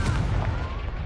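The Confringo blasting spell in the video game Hogwarts Legacy, a short, loud burst of explosive crackling impact with a booming low end that tails off within a second.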